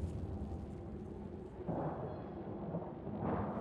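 Storm thunder in the video game Mass Effect Andromeda, a low continuous rumble with swelling rolls, fairly faint and distant, without speech.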